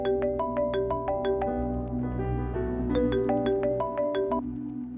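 A phone ringtone plays a bright, repeating electronic melody of quick chiming notes in two clear phrases, loud and close, with no voices over it.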